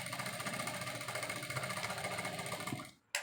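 Sewing machine stitching the shoulder seams of a vest, a steady fast mechanical whir that runs continuously, then stops abruptly near the end with a brief restart.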